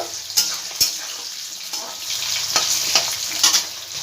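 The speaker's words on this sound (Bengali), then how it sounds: "আলুটাকে একটু নাড়াচাড়া করে দেবো" Potatoes fry in a pan for a mixed-vegetable dish, giving a continuous close sizzle with repeated scraping and clacking as they are stirred.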